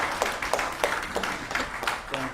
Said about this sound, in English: with a resounding round of applause, kindly join me